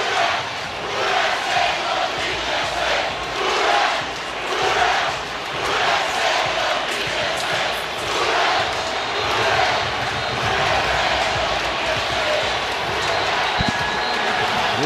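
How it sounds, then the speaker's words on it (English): Football stadium crowd roaring during an NFL game between the Atlanta Falcons and New Orleans Saints, a loud surging swell of thousands of voices rising and falling in waves with no clear break. "Ooh, this crowd is into it"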